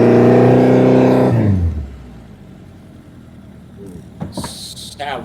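A car engine revs hard at first test drive, loud and rising for over a second, then drops away to a low rumble, with a few brief knocks and clicks near the end.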